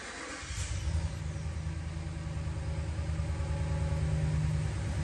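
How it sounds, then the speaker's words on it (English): A 2017 Ram 1500 Sport pickup engine catches and settles into a steady idle, a low continuous rumble heard from inside the cab, with no talking. "let's go ahead and start this vehicle up for y'all"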